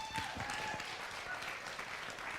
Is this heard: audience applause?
yes